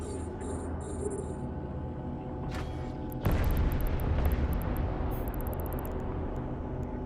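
Ship cannons in the Eve Online space game fire in a dense volley, a heavy booming roar kicking in abruptly partway through over a steady droning game backdrop with high electronic pings.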